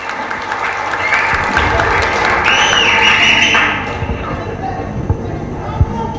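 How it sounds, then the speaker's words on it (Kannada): An audience at a rural dance academy's annual event applauding its choreographers, a dense sustained wash of clapping that swells, then thins out with a few scattered claps and thumps. "ಅವರಿಗಾಗಿ ನೀವು ಜೋರಾಗಿ ಚಪ್ಪಾಳೆ."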